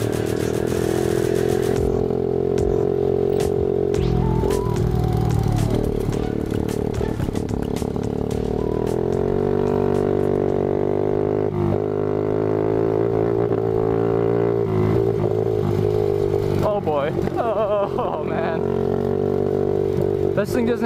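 A Yamaha 80cc four wheeler with no suspension rides over bumpy ground, its small engine droning loud and steady with revving changes and rattling throughout, while people talk over it.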